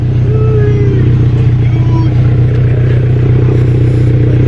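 A turbocharged Subaru BRZ fitted with a Tomei 80R exhaust idles loudly up close, a deep steady burble with a constant low drone and faint mechanical clatter, no revving.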